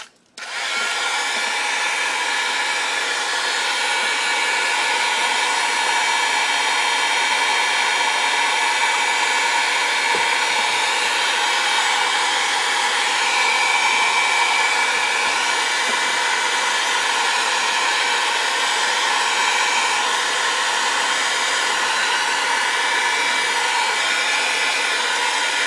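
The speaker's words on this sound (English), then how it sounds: "I think I might hit this with my heat tool just to dry some of my earth stones." A handheld craft heat tool blows steadily for about 25 seconds while drying earth stones on a mixed media project. It gives a loud, continuous whirring hiss that starts abruptly and holds an even level throughout, with no talking.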